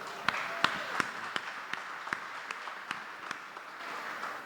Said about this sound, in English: give our panel a wonderful round of applause